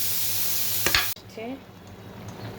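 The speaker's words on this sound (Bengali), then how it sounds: "আলু ভাজা হয়ে গেছে মোটামুটি।" Potatoes frying in a pan: a steady hiss, briefly interrupted by a clatter, with faint voices in the background.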